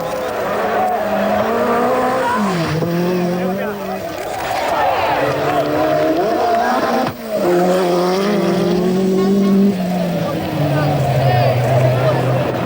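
Peugeot 205 Turbo 16 rally car driven by Timo Salonen, its engine droning loudly and steadily with shifting pitch as it rejoins a rally stage, a French commentator talking over it throughout.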